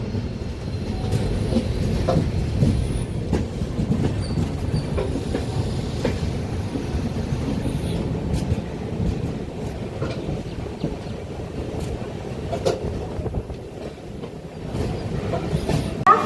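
A Garib Rath Express train rumbling along the rails near Visakhapatnam railway station with a steady low roar and occasional clacks and squeals, heard from close by for a long stretch.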